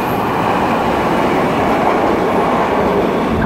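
A San Francisco Muni light rail train rolls past close by with a loud, steady rumble and rattle of wheels on track that never lets up.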